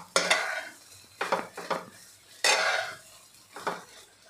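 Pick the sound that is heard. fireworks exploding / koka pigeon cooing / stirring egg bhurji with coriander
stirring egg bhurji with coriander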